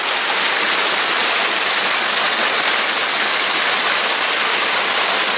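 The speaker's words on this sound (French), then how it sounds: "Belle petite cascade." A small waterfall in the Morvan countryside: a steady, loud, close rush of falling water, continuous and unbroken, with no voices.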